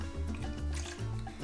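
Sugar water, about 30 millilitres, is poured into a pisco sour mix of pisco and lime, making a close, soft liquid glugging and trickling sound for a moment with no talking.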